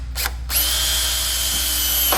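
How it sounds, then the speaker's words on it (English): A power drill with a small-diameter bit whines steadily at high speed drilling a pilot hole in a Honda K24 engine bay, after a couple of short bursts, close and loud. "I'm going to use a small diameter drill bit and drill my pilot hole."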